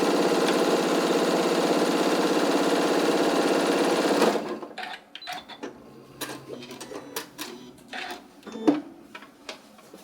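A sewing machine runs a zigzag stitch along a folded fabric edge, whirring loudly and steadily for about four seconds, then stops, leaving scattered clicks and light handling noises.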